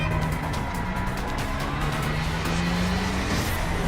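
A car engine drones steadily with a rising tonal whine as the vehicle moves, a continuous close roadway sound without speech.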